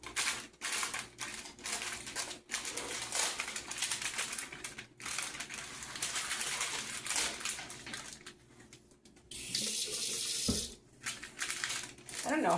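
Water runs from a kitchen tap to wet a spatula, giving a continuous broad hiss with brief breaks and a rushing burst near the end, close by and fairly loud.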